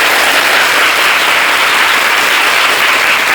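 Loud, dense clapping from a crowd gathered at a Hindu devotional ceremony, continuous and even throughout with no voices standing out.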